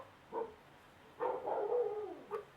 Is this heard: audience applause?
no